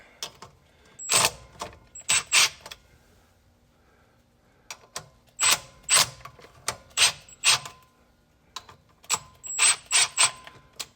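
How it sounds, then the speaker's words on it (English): A ratchet tightening bolts on a Kawasaki Ridge primary clutch during a spring install, with bursts of quick metallic clicks in several groups separated by pauses, close and fairly loud, with no talk. "Now I'll tighten everything up."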